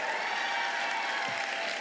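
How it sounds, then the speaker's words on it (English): Steady applause from an audience at an evening FCPS 2022 employee honors ceremony, a dense even patter of clapping held at a constant level throughout. "Everybody in Region 1 better clap too"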